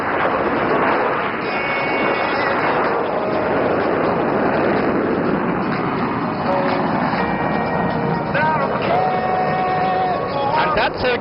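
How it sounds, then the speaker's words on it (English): Aerobatic aircraft pulling up into a vertical loop during an air show display at Aero India in Bangalore, a loud sustained engine roar spread across the whole stretch, with crowd noise and an announcer's voice over it. "And that's Sergey pulling up for a loop, going vertical."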